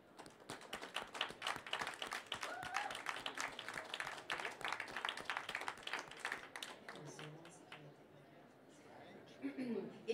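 A seated audience at a French-speaking gathering on non-violent action claps as a show of hands, with quick, distinct claps running steadily at low volume before thinning out, and voices murmuring near the end.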